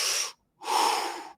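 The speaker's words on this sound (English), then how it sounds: "It's just in and out through the mouth." Rapid, forceful mouth breathing in and out, circular connected breathwork with two long breathy rushes split by a brief silent gap, close and loud.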